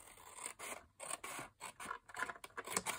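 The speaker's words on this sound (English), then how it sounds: "Okay, so I'm going to cut there" Scissors snip through paper for a handmade pocket photo album: a quick run of short, close crisp cuts and scrapes in quick succession, with no voice.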